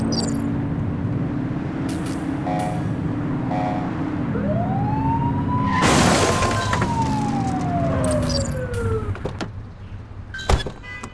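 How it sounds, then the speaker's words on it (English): Police car siren in the video game The Precinct gives a single rising-and-falling wail over a steady car engine hum, framed by short electronic beeps and a sharp crash near the end. "Get behind them and blip the siren and make them pull over."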